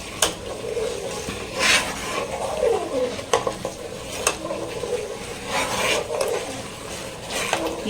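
Spoon stirring fruit custard mixture in a pan with cardamom, soft scraping swirls punctuated by sharp clinks against the metal, close and moderate in volume.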